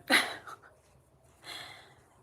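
A single sharp sneeze at close range indoors, followed by a breathy exhale and a quieter second burst of breath a second later.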